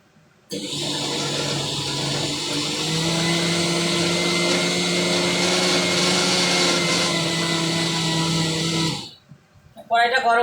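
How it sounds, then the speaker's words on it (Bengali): A mixer grinder runs continuously for about eight seconds while blending a paste, a loud steady whirring motor drone that starts abruptly and cuts off, followed by brief clatter. "ততক্ষণ আমি এটা মিক্সিতে আবার পেস্ট করে দেবো।"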